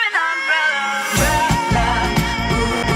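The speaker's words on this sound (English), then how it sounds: "I took some of her notes and reversed them." Backward-sounding vocal notes swell with a washy reverb tail, then a thumping beat and fuller music come in underneath for the rest.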